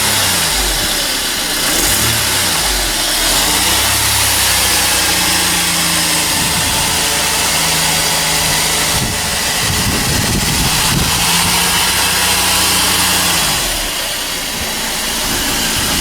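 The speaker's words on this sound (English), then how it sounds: "So this is with the engine starting" A 1991 Mercedes W124 230CE automatic idles steadily after starting, a loud, continuous mid-pitched engine hum with a slight rise in revs partway through.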